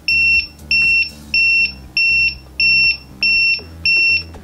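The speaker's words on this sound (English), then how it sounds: "The alarm will go off 8 times and then we'll just quit." A high electronic two-tone beep from a TickTime digital timer sounds eight times in an even rhythm, each tone held briefly with short gaps between, loud and close.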